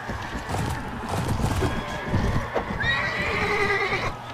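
Horse galloping and neighing in the video game Mount & Blade Warband with the Floris Extended mod, during a tournament: continuous hoofbeats under steady battle noise, with a whinny rising near the end.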